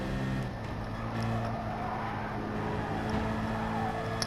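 A rally car at full speed on a seaside FIA round stage, its engine droning steadily close by with small shifts in pitch as gears change, with no voices.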